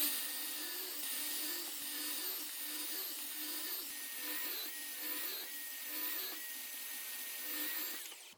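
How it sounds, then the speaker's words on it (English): A Kapex KS 120 mitre saw whines steadily through wood in a precise cut, a high sustained motor drone with faint pitch dips as the blade bites, ending with a quick spin-down. "I'm going to do a really precise cut right down my cut line right here."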